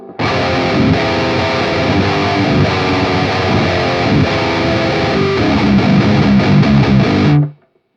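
An electric guitar runs through the Amped Roots amp simulator with the presence raised, producing a loud, dense distorted chord riff that rings continuously for several seconds and then cuts off abruptly, with no voice over it.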